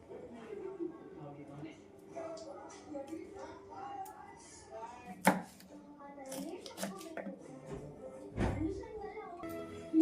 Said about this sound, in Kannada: ಈಗ ಬೀನ್ಸ್ನು ಕಟ್ ಮಾಡ್ಕೊತಾ ಇದ್ದೀನಿ.